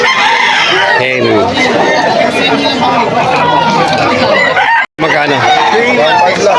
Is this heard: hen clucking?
yes